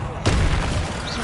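A Confringo fire spell bursts in Hogwarts Legacy with a sudden loud blast, followed by a sustained, rumbling roar. A voice is heard in the same moment.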